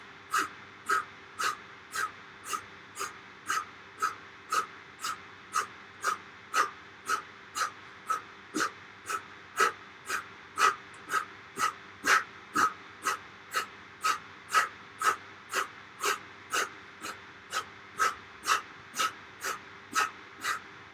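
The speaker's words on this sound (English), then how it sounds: "the breathing for this is we're going to exhale on every one" Sharp, forceful exhales from a kung fu breathing exercise repeat in a fast, steady rhythm, about two per second, close and clear with no talking over them.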